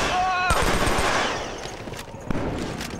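Gunfire in the video game Killzone 3 comes as loud bursts of automatic fire and sharp shots, with a rapid volley followed by scattered reports and a fading tail. Faint speech can be heard under it.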